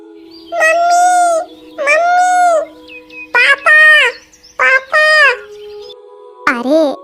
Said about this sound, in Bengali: পাখির বাসা থেকে আওয়াজ আসতে লাগলো